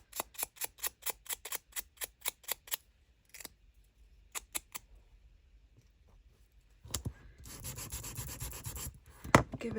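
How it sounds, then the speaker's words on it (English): A junk journal tab made from paper scraps is sanded by hand, first with a run of short, regular rasping strokes, then a few sparse scrapes, and finally denser rubbing; close, quiet, no talk. "Give it a bit of a sand."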